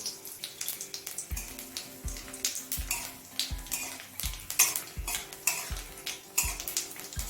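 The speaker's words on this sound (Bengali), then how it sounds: "কালো জিরা শুকনো লঙ্কাটা দশ থেকে পনেরো সেকেন্ড ভেজে নিলাম" Dried red chillies and black cumin fry in oil heated over a high flame. A soft crackle runs underneath regular, rhythmic stirring strokes that scrape and knock against the pan about twice a second. The sound is fairly quiet and no one speaks.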